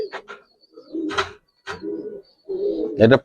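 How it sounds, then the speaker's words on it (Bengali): Two male Giribaz pigeons coo close by in distinct rising and falling phrases, about four bursts separated by short silences, the last one loudest. "ভাই দুটা নর দেখেন ভাই ভাই নর কবুতর"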